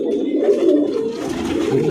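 Tournament racing pigeons coo softly and repeatedly, a close, low burbling murmur that continues throughout with faint background noise.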